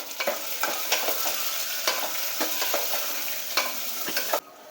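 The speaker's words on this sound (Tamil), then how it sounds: "சின்ன வெங்காயம் இவ்வளவு கட் பண்ணி வச்சுருக்கேன் ரெண்டு ரெண்டாக அதை போட்டு வதக்கிக்கலாம்" Small onions sautéing in a hot pan for Kongu-style tomato bajji, a continuous close sizzle broken by repeated scraping strokes of a spoon, with no talking.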